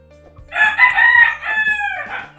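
A backyard rooster crows once, loud and close, in a single drawn-out cock-a-doodle-doo with no talking around it.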